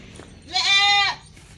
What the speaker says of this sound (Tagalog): So, yung kambing natin, no?